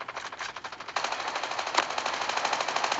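Automatic gunfire in the mobile shooter game Call of Duty Mobile, a rapid steady stream of shots that gets louder partway through and continues to the end.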